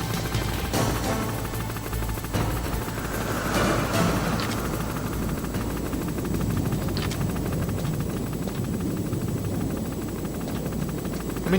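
A helicopter in the video game Metal Gear Solid drones continuously with a dense rotor chop, holding steady at close range for the whole stretch, with a few sharp impacts cutting through.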